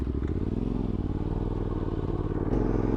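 Yamaha Tenere T7 motorcycle engine pulling steadily in third gear through a canyon, a continuous low throbbing drone with a slight surge near the end, close and loud over wind.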